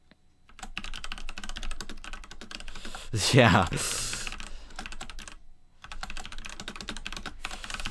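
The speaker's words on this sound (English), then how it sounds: "I am doing my fastest typing speeds here, trying to get this event done rather quickly" Rapid, continuous clicking of fast typing on a computer keyboard, close and steady with brief pauses, while a person briefly speaks partway through.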